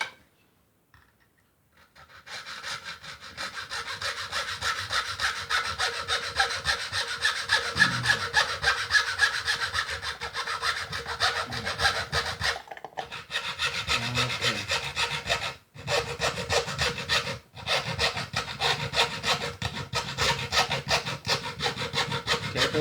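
A hand saw cuts 2 mm off the end of a wooden bansuri flute, with steady, continuous close strokes that pause briefly twice before the sawing resumes.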